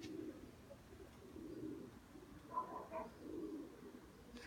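Pigeons coo in a few low, soft bursts at night, with faint chirps in between against quiet background noise, all heard from a distance.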